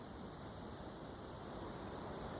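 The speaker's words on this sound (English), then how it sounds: "The waterfall, the way it flows, the sound it makes" Steady broadband rush of a waterfall flowing outdoors, a continuous even roar with no breaks and no voices, moderately quiet throughout.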